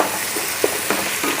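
Curry leaves frying in butter in a pan for biryani, a steady close sizzle with a few brief scraping stirs.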